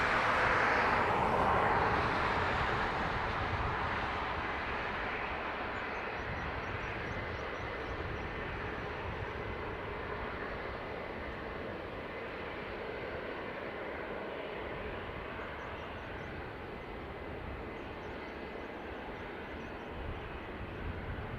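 An airliner lands on the north runway at Dublin Airport, its engine roar loudest at first and then settling into a broad, steady rumble that fades slowly, heard from a distance with no speech.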